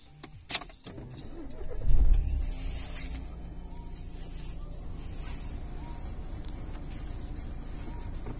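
A Renault Megane 3 engine starts with a short cranking burst that settles into a steady, quiet idle, recorded up close with no talking.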